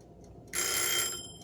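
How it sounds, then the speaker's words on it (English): Kitchen timer ringing while blackberry cobbler cooks for a keto dessert, a bright metallic ring bursting in suddenly, holding steady for about half a second, then fading out, fairly loud and alone. "And my timer just went off."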